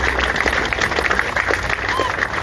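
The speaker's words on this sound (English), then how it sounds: "So please give Noel a round of applause." An outdoor crowd at a carpenters' rally in Boston claps continuously, a dense, even patter of applause close by throughout the short stretch.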